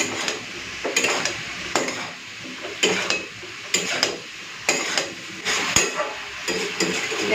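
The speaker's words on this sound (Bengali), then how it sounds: "খুব সাবধানে এখন নাড়াচাড়া করে নেব।" Cut mushrooms are stirred in a cooking pan with a utensil, giving a rhythmic run of scraping, clinking strokes over a low, steady sizzle.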